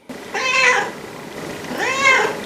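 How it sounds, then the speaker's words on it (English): A cat meows twice, two drawn-out, rising-then-falling cries about a second apart, close and clear against a quiet background. "Kitty, kitty, kitty, kitty, kitty, kitty. Meow."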